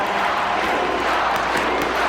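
A hockey arena crowd on its feet, cheering and roaring as one loud, continuous wall of noise with faint whistles and shouts poking through.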